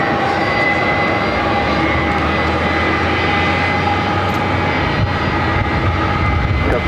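Airliner jet engines roaring at LAX, a steady loud broadband rumble with a low drone, sustained throughout with no talk.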